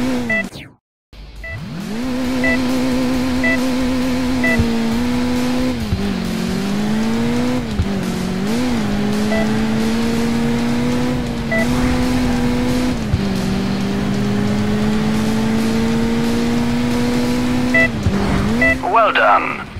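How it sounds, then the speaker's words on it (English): A car in the Crash Time 2 racing game drives at a sustained engine drone, pitch rising and dipping with speed changes and a jump, loud and close, ending in a brief burst of noise. "There will often be situations where you are forced to jump with your car."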